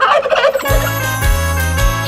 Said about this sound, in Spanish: El pavo real hace glu glu.